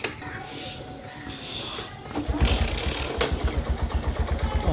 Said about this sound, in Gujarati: તો આપણું બાઇક સ્ટાર્ટ થઈ ગયું છે